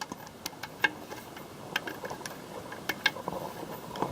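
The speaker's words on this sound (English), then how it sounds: "You should just turn with your hand on the ratchet just like that." A ratchet is turned slowly by hand while fitting a Powerglide transmission unit, producing a faint, irregular series of light clicks and ticks at close range with no speech.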